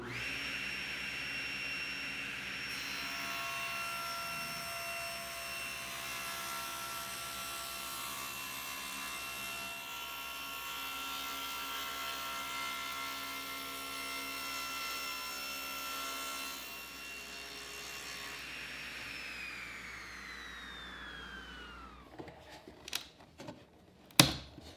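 A table saw rips a slight taper in white oak, the blade set at a 7-degree angle, giving a long, steady whine and cutting roar for about twenty seconds before spinning down, followed by a few sharp knocks.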